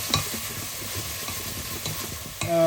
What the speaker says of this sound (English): Ya metemos la cebolla, 2 cebollas, y cocinamos la cebolla hasta que está